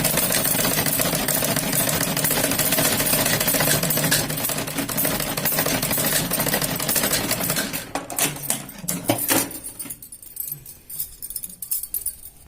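A sewing machine stitches Patiala salwar pieces together with a loud, continuous rattling whir. It slows into uneven bursts and then stops, with no talk.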